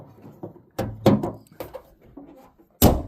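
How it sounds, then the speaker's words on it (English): A Toyota Aygo bonnet is lowered with a few close rattles and clunks, then finishes with a sharp, loud slam; no one speaks. "Right, put the bonnet down."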